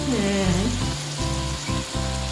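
Chicken 65 frying until crispy, a steady close sizzle that fills the clip with no talk.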